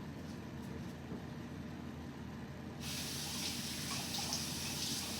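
Tap water runs steadily into a kitchen sink while a chia pudding basket is rinsed, a continuous broadband splashing hiss that grows louder and brighter about halfway through as the flow strikes the basket.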